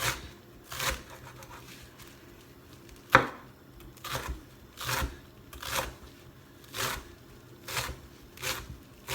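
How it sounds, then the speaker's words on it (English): A favourite kitchen knife chopping food on a board, roughly a dozen crisp, evenly spaced chops with a few slight pauses and no voices. "It's my favorite knife for cutting."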